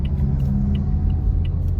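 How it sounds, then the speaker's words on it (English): Engine of a Toyota Vios sedan driving in manual mode, a steady low rumble with faint ticking clicks on top, close and continuous throughout. "You're gonna listen to the sound of the engine"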